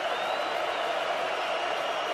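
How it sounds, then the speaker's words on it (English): Stadium crowd at a 2023 Michigan football game against UNLV roars in a steady, dense wash of cheering and applause, broad and sustained throughout, with a commentator's voice faintly mixed in. "Michigan crowd making some noise for the first time today for their defense"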